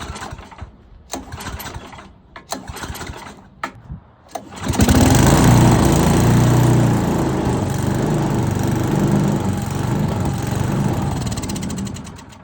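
Small wood chipper engine, just after carburetor cleaning, with brief clicks and short bursts before it catches near five seconds, then runs loud and steady close by, roaring at full throttle with slight shifts in pitch.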